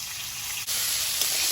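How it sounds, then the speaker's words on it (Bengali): Loud, close sizzling of fish, big kalbasu carp pieces, frying in hot oil in a pan, a continuous crackling hiss with a brief dip partway through and no talking. "মনে হয় আগে মাছগুলো ভাজা হয়েছে তেলেকে তুলে নিচ্ছি"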